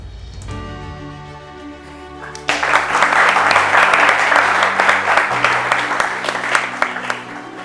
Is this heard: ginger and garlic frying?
no